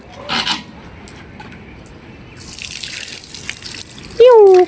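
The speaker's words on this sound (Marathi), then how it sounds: "आता बघा मटकीतून पाणी ओतले" Water poured out of a clay pot, a gushing splash lasting a couple of seconds that starts abruptly and is fairly close, with brief voices and a short whistle-like tone near the end.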